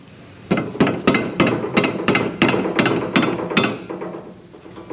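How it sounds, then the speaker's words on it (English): A rubber mallet knocks a suspension bolt sleeve out of a Mazda Miata's lower control arm, about ten evenly spaced, solid thuds landing close and loud in a quick, regular rhythm that slows slightly toward the end. "Where's the rubber mallet again, Chris?"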